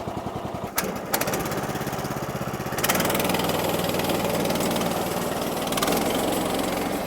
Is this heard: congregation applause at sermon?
no